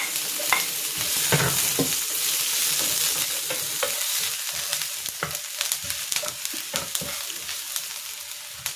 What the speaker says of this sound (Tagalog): Magigisa na ako dito ng bawang. At ng sibuyas.